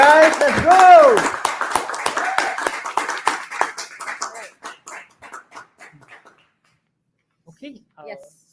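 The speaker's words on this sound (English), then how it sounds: "another round of applause to all the startups" Applause for startups at a startup pitch championship session. Clapping mixes with voices at first, then thins into scattered individual claps that trail off into near silence, with a few faint sounds near the end.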